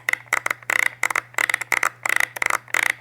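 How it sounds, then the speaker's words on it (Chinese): The ISO dial on a Nikon Zf camera gives quick runs of crisp mechanical clicks close to the mic as it is turned in repeated bursts, over a low steady hum, with no voices. "ISO 这个转盘会更加的清脆一点，有点像机械键盘的轻轴"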